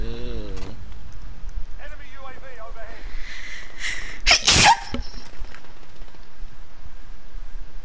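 A single loud, sharp sneeze bursts out midway through, amid indoor background noise and people chatting during a game stream.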